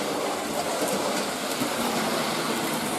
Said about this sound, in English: let's just watch the two engines run around